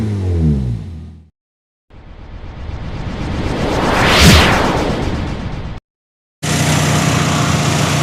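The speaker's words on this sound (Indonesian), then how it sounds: "Nih suara mesin juga masih enak banget." Engine of a Toyota Limo ex-taxi sedan revving, rising to a loud peak and falling back, close and steady, with brief silent gaps between segments and no talking.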